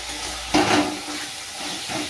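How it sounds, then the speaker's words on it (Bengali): Potato and pointed gourd are stirred and sautéed in a pan for an egg curry, with a soft steady sizzle and one louder scraping stir partway through. "তখন ভালো করে নাড়াচাড়া করে কষাতে হবে।"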